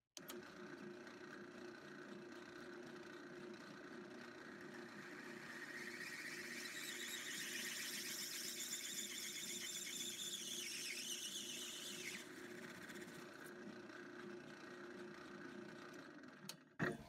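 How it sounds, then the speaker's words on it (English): A power drill whirs steadily, rising into a high squealing whine as the bit grinds through plastic, then cuts off abruptly. "We're going to drill over a little bit here."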